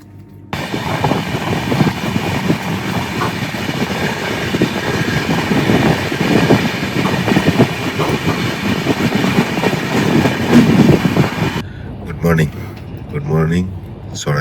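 Saraighat Express train running on rails, a loud, steady rumble with rhythmic clatter heard from inside a moving coach, a person talking over it, and the noise dropping toward the end.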